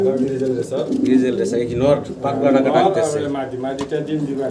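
A male racing pigeon coos close by in repeated low, throaty rolling calls, with a person talking over the cooing.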